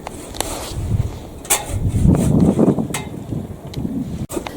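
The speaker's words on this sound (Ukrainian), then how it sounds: "У нас сьогодні ще й вітер такий, такі пориви вітру" Gusts of wind buffet the microphone, rumbling and rising in bursts with occasional rustling and faint clicks outdoors.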